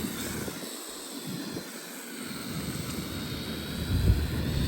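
A cheap toy drone hovers close by, straining to lift off while it struggles with its balance, giving a steady, unbroken buzzing whine of small rotors with no voices over it.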